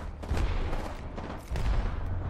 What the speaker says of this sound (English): TSM now shooting the backside here, too.